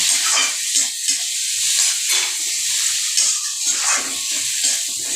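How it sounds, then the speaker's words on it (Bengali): Chopped tomatoes and slit green chillies hiss and sizzle loudly in a pan with fried garlic, a steady close frying crackle with occasional stirring. "আমি এবার এখানে কুচানো টমেটো দিয়ে দিচ্ছি"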